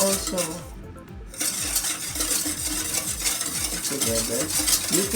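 Stirring and mixing a sauce for stovetop BBQ ribs with sugar in a bowl or pot: repeated scraping, clinking strokes in a steady rhythm, close and fairly loud, with a brief pause near the start.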